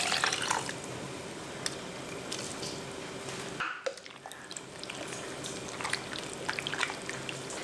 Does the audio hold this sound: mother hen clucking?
no